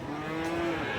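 A cow moos once, long and low and fairly near, over the busy murmur of a cattle market.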